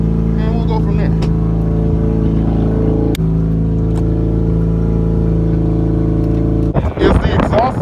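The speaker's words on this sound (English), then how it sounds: "I'm gonna go ask people to see how that exhaust sounds" A car engine with a loud exhaust idles in a steady, heavy drone, then revs sharply near the end, close and loud with no talk over it.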